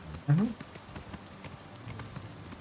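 Horse hooves in Oblivion Remastered clop faintly in a steady galloping rhythm beneath someone talking, with a brief louder sound near the start.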